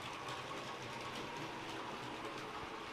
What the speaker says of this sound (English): this loco that we've currently got running around on the top left of the screen now, this is the Class 25 from Bachmann